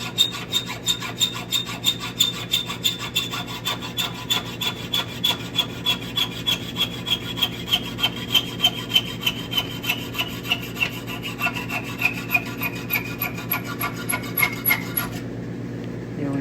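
Hand saw with a worn, dry blade cutting steadily in a workshop vise, producing a long run of even, rhythmic back-and-forth strokes, close and fairly loud, with a ringing metallic tone throughout.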